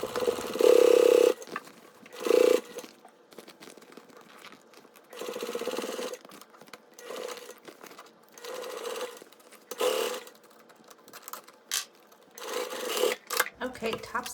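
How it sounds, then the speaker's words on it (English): A domestic sewing machine top stitching fabric for a travel pouch, running in short whirring bursts separated by pauses with faint handling rustle, close by. "And top stitch like we did on the front, all the way down"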